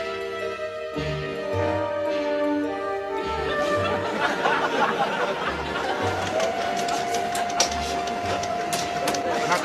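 A printer whirs and clatters with a rhythmic mechanical pulse while people chatter and laugh in the background.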